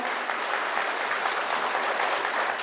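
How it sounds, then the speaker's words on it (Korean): An audience at the founding assembly of an international religious union applauds to welcome a guest, a dense, continuous roar of clapping that keeps an even level throughout. "여러분 큰 박수로 환영해 주시기 바랍니다"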